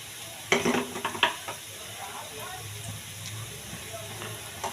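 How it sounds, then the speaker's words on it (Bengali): Turmeric and chili powder are stirred into browned onions frying in a pan for a hilsa fish head and taro leaf curry, with a few clinking scrapes of the spoon over a steady soft sizzle. "দিয়ে একটু নাড়াচাড়া করব।"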